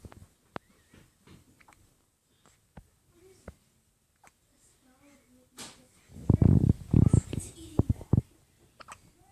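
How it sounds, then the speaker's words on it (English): A baby hiccups in short, sharp, isolated bursts at irregular intervals, soft and close, followed by whispery breathy baby vocalizing and fussing. "Them poor hiccups."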